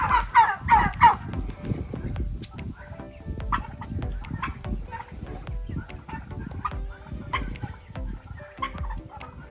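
Large, nearly grown chicks cluck and chirp close by in a busy, overlapping stream of short calls, louder at the start and then continuing steadily throughout.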